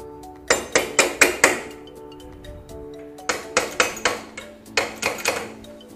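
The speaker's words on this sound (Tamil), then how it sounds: "வீலை இப்படி எடுத்து ஏதாவது தட்டலாம்." A Pulsar 220F motorcycle rear wheel is tapped forward during a chain and sprocket change: three close bursts of rapid metallic knocks, four or five strikes each, ringing sharply with short pauses between.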